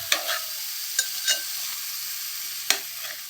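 A spoon stirring pumpkin curry with chili powder in a hot pan, with a steady sizzle under a few short scraping knocks against the pan.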